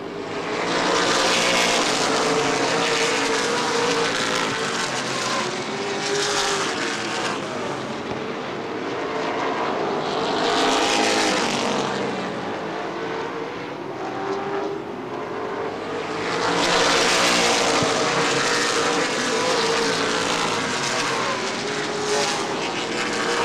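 Late model sportsman race cars roar around the track during a 40-lap ICAR Top Speed Fabrication race at Angola Motorsport Speedway, a loud continuous engine drone that swells and fades as packs of cars sweep past, with no talk over it.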